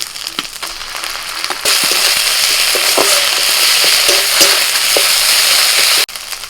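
Onion, ginger-garlic paste, dried and green chillies and cumin paste hit hot oil in a pan, and a loud, dense sizzle erupts at once. Scattered stirring knocks sound over it until it cuts off abruptly.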